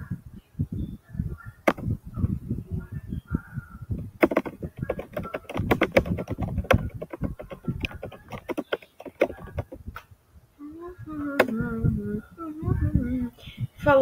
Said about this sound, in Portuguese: Aqui eu vou digitar uma frase, no caso eu vou digitar o meu nome.